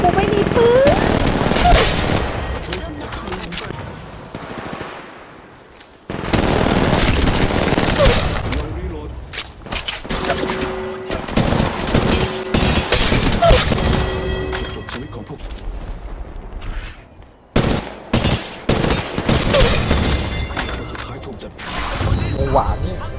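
Rapid bursts of gunfire in a shooting video game, loud and dense with brief gaps, with someone talking over much of the action.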